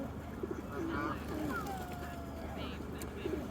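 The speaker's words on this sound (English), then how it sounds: "Loads of birds." Pigeons and other birds cooing and calling at a feeding spot outdoors, fairly faint over a steady background hum, with soft chirps scattered throughout.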